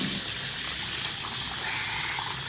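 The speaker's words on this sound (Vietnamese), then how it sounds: "Giờ tiếp tục cho vào xả nước sôi" Boiling water is poured over a caught frog, making a steady, close trickling and splashing stream that runs continuously for a couple of seconds without talk.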